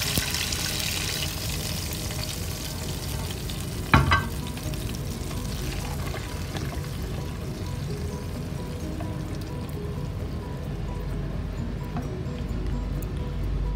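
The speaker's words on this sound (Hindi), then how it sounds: "तड़का हमने इसके अंदर डाल के मिक्स कर देना है इसको" Steady oily sizzling and crackling of a tempering being stirred into chicken haleem, with a faint stirring scrape and one brief clatter early on, continuous and close, no voices.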